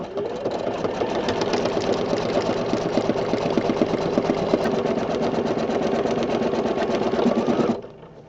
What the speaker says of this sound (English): This does one straight running stitch all the way around.